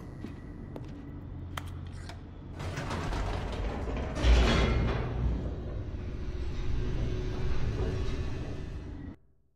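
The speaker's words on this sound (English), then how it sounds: "The elevator raced downward, plummeting towards an unknown fate." In The Stanley Parable video game an elevator descends with clanking gears, ratcheting and creaking, building to a loud mechanical rumble that holds steady and then cuts off abruptly.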